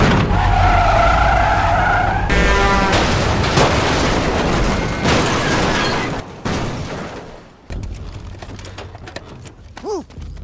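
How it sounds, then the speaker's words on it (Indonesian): A film car chase: tires skid and screech loudly before a container truck slams into a car with a heavy crash, followed by scattered debris and quieter rattles. "Begitupun dengan mobil lainnya yang berakibat sebuah kontainer menabrak sebuah mobil."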